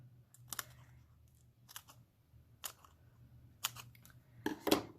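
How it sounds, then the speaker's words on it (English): Scissors snip dimensional adhesive pieces in about five separate sharp cuts spaced irregularly, close and crisp over a quiet low hum. "So I'm just going to cut these up into smaller ones that will fit."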